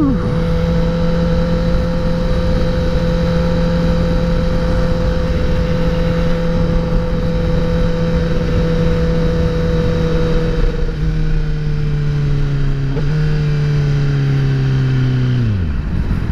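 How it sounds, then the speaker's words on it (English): A 2021 Kawasaki ZX10R sport motorcycle engine, loud and close, holds a high steady drone, then the pitch shifts and drops as it slows near the end, with no talking. "this bike just wants to go"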